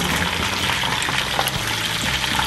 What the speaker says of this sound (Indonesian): Langsung kita taruh sini bro. Dan kita goreng selanjutnya.